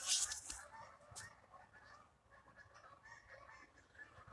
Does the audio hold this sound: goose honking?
yes